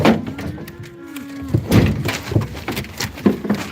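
A cow gives one long, low moo close by, followed by thuds and rustling movement in a farm setting.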